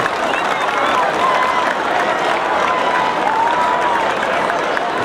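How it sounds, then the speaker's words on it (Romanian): A crowd at a school's new-year opening ceremony keeps up steady, dense applause for several seconds, with a few voices calling out and murmuring through the clapping. "Să-i aplaudăm pe cei mici pentru că au emoții."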